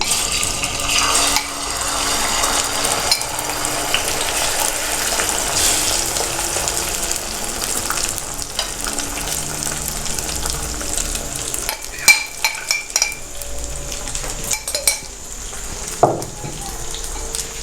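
Egg-dipped bread fries in hot oil in a pan, giving a steady, bright sizzle that fills the whole stretch, with a few clicks and light clatter near the end, close and fairly loud.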